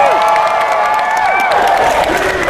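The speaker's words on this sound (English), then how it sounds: "Can I get an excited cheer?" A large convention crowd at a cosplay contest cheers and applauds loudly, dense clapping mixed with whoops and high shrieks rising and falling throughout.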